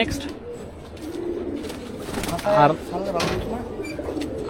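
Pigeons in a bidders' collection coo on a rooftop, soft rolling calls rising and falling near at hand while people talk over and between them.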